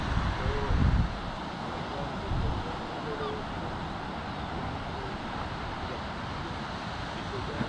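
Steady wind and surf noise at a crowded surf spot in Brittany, with wind breaking up the waves; a broad, continuous roar with low gusty rumbles near the start.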